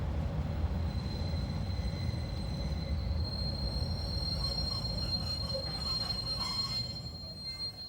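The Orient Express slows for a short supply stopover in Switzerland, its wheels letting out a sustained high metallic squeal over steady rolling rumble, easing off near the end.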